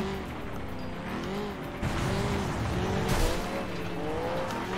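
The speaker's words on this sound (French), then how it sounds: "Elle patine beaucoup trop des roues arrière." A car's rear wheels spin and squeal in the racing video game FlatOut 2, engine whine rising and falling with brief bursts of skidding, fairly quiet and without talk.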